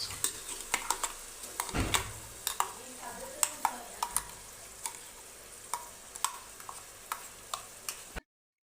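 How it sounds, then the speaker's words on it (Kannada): Ground masala with tomato fries in oil in a pan for menthya bath, a fenugreek rice dish, with a soft sizzle under repeated sharp taps and scrapes of a stirring spoon, close and fairly quiet. "ಹಾಕಿ ಈಗ ಇದನ್ನು ಫ್ರೈ ಮಾಡ್ಕೋತೀನಿ"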